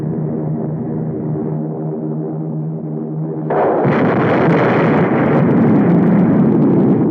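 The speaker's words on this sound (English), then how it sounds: "The atom bomb has been dropped on the United States of America." An atom bomb explosion sound effect from a 1952 film: a steady low droning tone gives way abruptly to a loud, sustained roaring blast that rumbles on without pause and with no voices.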